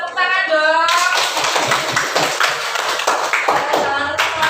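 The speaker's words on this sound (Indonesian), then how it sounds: "tepuk tangan dong" A group of participants in a teacher-training class clapping after a lesson, a busy stretch of close, crisp hand claps that follows a brief spoken voice at the start.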